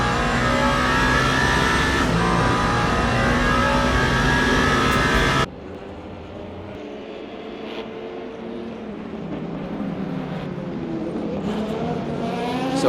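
A BMW GT3 race car, number 46, roars at high revs in a Le Mans Ultimate race at the 24 Hours of Le Mans, loud and sustained before dropping to a quieter, distant engine drone.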